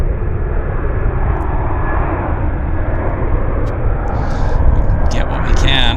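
A jet airliner landing on the north runway at Vancouver International Airport (YVR) gives a steady, loud broadband engine roar that persists throughout, with no break in the sound.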